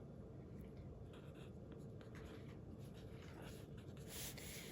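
A pen scratches softly on paper as the date is handwritten at the top of a letter in Urdu, a faint continuous rubbing with small strokes and no talking.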